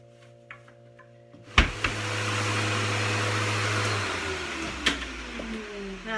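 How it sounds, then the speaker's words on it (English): A vacuum cleaner starts up abruptly after faint clicks and runs with a loud rushing whine inside a kitchen cabinet, its pitch shifting as the nozzle moves and bumps, with a brief knock partway through. "I'm going to take the vacuum and go inside here just to get any dust,"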